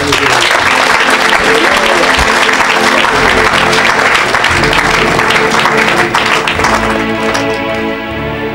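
A church congregation claps and cheers in loud, sustained applause at an evangelistic service, dense and continuous before thinning toward the end.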